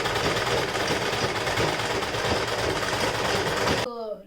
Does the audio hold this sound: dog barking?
no